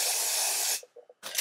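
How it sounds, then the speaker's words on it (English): Black spray from an aerosol can applied to the lace of a water-wave frontal wig: one close, loud continuous hiss, a brief pause with a few soft taps, then a second short spray burst. "we're gonna do a black even spray today."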